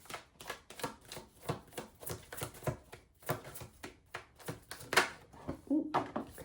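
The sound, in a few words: tarot cards being shuffled and drawn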